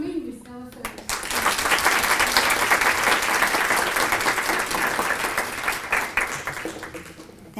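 Applause from an audience welcoming a speaker to the stage at an awards ceremony, steady dense clapping that swells after a brief quiet start and holds loud throughout.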